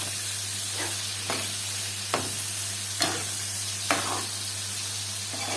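Fatty meat sizzles steadily in a hot pan as black pepper, spices and salt are stirred in, with about five distinct scraping stir strokes over a constant frying hiss and a low electrical hum.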